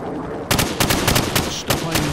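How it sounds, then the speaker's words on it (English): Rapid bursts of gunfire from the hip at targets in Call of Duty Modern Warfare, loud and close, with dense automatic shots filling most of the moment after a brief quieter start. "shoot at the targets while firing from the hip"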